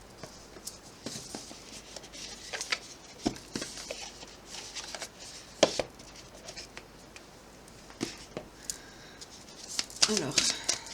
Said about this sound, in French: Je vais prendre l'oracle de Calypso pour voir un petit peu plus.